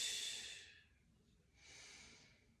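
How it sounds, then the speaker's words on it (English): Slow audible breaths during a seated stretching exercise: one long exhale, a pause, then a second softer breath, close and quiet with no talk. "Breathing in and out."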